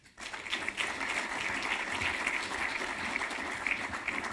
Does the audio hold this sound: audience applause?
yes